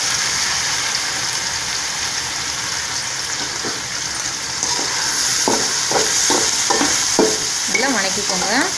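Onion and boiled vegetables stir-fry in a pan for vegetable noodles, with steady sizzling and frying plus repeated scraping stirs of a spatula that grow busier toward the end, no talking.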